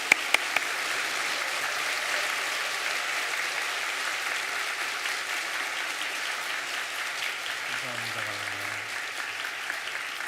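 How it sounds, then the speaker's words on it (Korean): A church congregation breaks into steady, dense applause that runs on evenly for about ten seconds at a moderate distance and fades a little near the end. "우리 박수로 환영하겠습니다"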